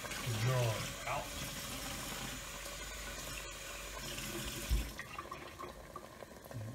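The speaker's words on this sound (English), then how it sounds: "I gotta add a little bit of water to it." Tap water running into a jar holding leftover sauce contents, a steady watery rush in a home kitchen with some background noise and a brief knock near the end.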